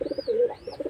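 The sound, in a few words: pigeon cooing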